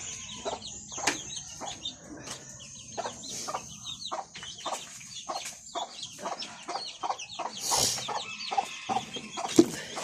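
Repeated short clucks from a sick pet turkey, fairly close, with scattered wing-like rustles and a busy outdoor background.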